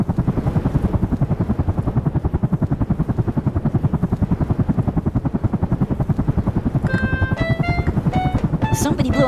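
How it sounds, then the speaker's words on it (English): Police helicopter in a children's cartoon, a loud, steady, rapid rotor thump throughout, with a voice speaking over it and a short musical jingle near the end. "Police copter, please help!"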